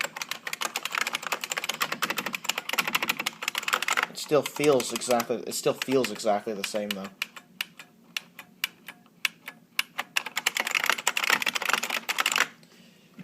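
Rapid clacking keystrokes on a Unicomp Classic 104 USB Model M buckling-spring keyboard, steady bursts of typing near the mic, pausing while someone speaks briefly, then resuming with scattered individual key presses.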